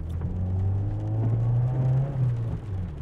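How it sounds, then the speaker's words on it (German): A VW Golf 4 engine with a fault stutters and refuses to take throttle, giving a low uneven rumble that surges and dips irregularly over a few seconds, close by and without speech. "ich weiß nicht, ob es auf der Kamera rüberkommt, aber er nimmt immer noch kein Gas an, er ruckelt"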